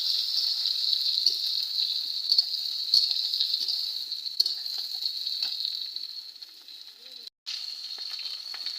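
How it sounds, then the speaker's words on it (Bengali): Hog plums fry in hot mustard oil with a steady, bright sizzle that holds continuously near the pan, dipping briefly toward the end before resuming, with faint stirring knocks underneath. "তেল যখন গরম হয়ে যাবে সেই পর্যায়ে আমি আমড়াগুলো ঢেলে দিচ্ছি।"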